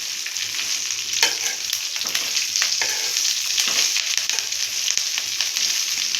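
Drumstick leaves and curry leaves stir-fried over high heat, a steady bright sizzle and frying hiss with occasional stirring scrapes, close and continuous throughout.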